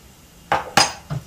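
A few dishes and utensils being put away while cleaning up after cooking couscous with poached egg and asparagus: three separate clinks and clatters of crockery and cutlery, close by, with short quiet gaps between them.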